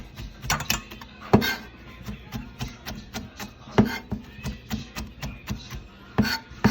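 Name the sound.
knife rough-chopping fresh parsley on a board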